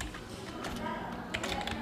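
Rapid typing on a computer keyboard, a steady run of light close key clicks with no voice over them.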